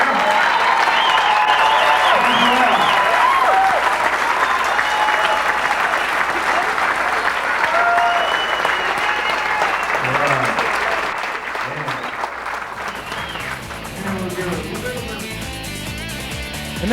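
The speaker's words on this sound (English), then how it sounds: "Please give you those girls a great round of applause." Sustained applause from an audience at a women's billiards tournament in Peoria, loud and steady for about eleven seconds before thinning out, with a voice talking over the tail end.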